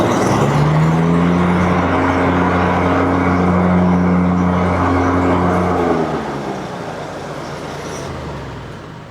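A John Deere commercial zero-turn mower fitted with new blades runs at a steady loud drone with a low engine hum and broadband whirring, close by, easing slightly quieter toward the end, with no voices.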